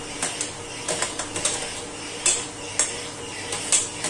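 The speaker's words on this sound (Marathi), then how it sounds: "हा जो कांदा आहे तो मी सगळा त्याच्यात छानपैकी तळसून घेतो" Onion stirred in coconut oil in a pan: a spatula scrapes and clinks against the metal in an irregular stirring rhythm, with sharp knocks every second or so. Any sizzle is faint beneath the utensil noise.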